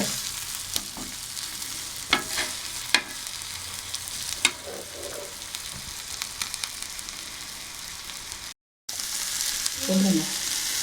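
Steady crackling sizzle of Chettinad-spiced fish frying in hot oil in a pan, a continuous close hiss with scattered pops and a brief gap, then louder bubbling toward the end.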